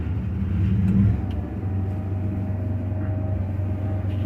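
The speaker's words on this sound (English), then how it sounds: "we start the generator right here off these lower controls" Generator on a Ford F450 Altec bucket truck, started from the lower controls, gives a steady, close, low engine rumble. It swells slightly in the first second, then holds an even drone with no talk.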